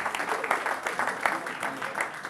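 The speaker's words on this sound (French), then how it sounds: "j'aimerais aussi que vous applaudissiez pour vous" An audience at an indoor paid event claps in a steady, dense round of applause that fills the room.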